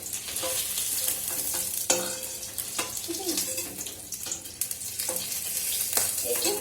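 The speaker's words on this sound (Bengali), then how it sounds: "বেশ ভাজা ভাজা হয়ে গেছে" Food frying in a home kitchen pan, stirred with a utensil: steady sizzling hiss broken by irregular scraping and clinking knocks, with a faint trickle of water nearby and no talk.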